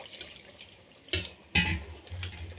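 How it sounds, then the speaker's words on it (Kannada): Water splashes into a pot of rice for tomato bath in two or three short close pours, with liquid sloshing and a faint background hum. "2 ಬೌಲ್ ನೀರನ್ನು ಹಾಕೋಣ."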